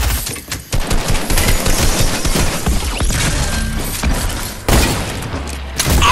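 Video game battle with a boom sniper: dense bursts of gunfire and explosions, loud and chaotic, several heavy booms cutting through rapid shots across the whole stretch.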